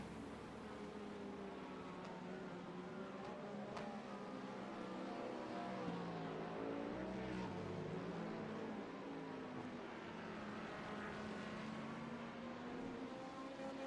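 Porsche race cars in a Sebring 12-hour racing game, engine drone rising and falling steadily as they lap, a continuous moderate roar with no talk.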